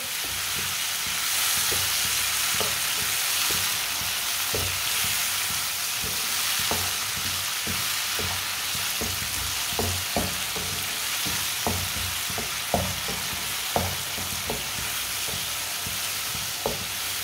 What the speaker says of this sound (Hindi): 2-3 मिनट के लिए ऐसे चम्मच चलाते हुए पका लेते हैं